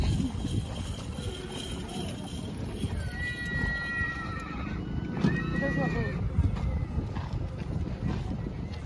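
Horse at a rural fair in India, whinnying several times with clip-clop hooves amid a busy crowd, with people talking nearby throughout.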